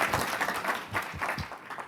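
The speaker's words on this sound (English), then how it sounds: "let's just give a round of applause to Chris, Melinda, and Anna." Scattered applause from a small group, brief and moderately loud, with uneven claps.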